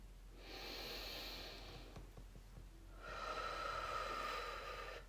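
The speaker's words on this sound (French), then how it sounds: "Je prends une dernière respiration profonde." A long, deep breath taken during a guided relaxation session, a soft airy inhale followed by a fuller exhale, close and quiet with no talking.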